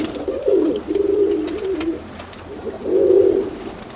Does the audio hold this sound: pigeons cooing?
yes